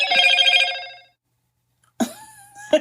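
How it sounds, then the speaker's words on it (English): A mobile phone rings loudly nearby, a tonal electronic ringtone burst lasting about a second, then silence, then a short chime or notification tone. "That was my phone, which I thought was on Do Not Disturb."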